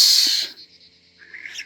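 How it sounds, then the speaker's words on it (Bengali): Birds call in the evening hills of Binsar, Uttarakhand: a bright burst of chirping opens, then thin, sustained whistling notes linger faintly before a few sharper calls return near the end. "পাখি, ঝিঝি।"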